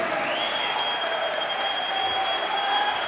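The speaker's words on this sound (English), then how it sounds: "The Hammer Mill crowd starting to get up and get loud" Basketball crowd in the Hammer Mill arena during the 2015 PSAC final between Gannon and Indiana gives a dense, sustained roar of cheering and clapping, loud and steady, with a whistle-like tone running through it.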